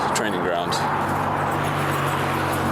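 Cars on a busy, noisy road make dense traffic roar with a steady low hum throughout, and a person talks over the traffic.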